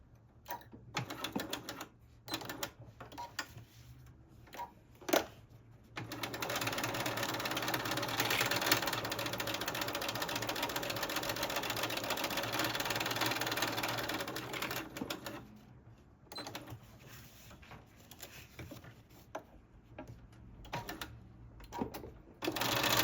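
A sewing machine stitches a binding edge onto quilted sneakers. Short bursts of stitching come first, then a long steady run of motor and needle, then more stop-start stitching as the fabric is turned.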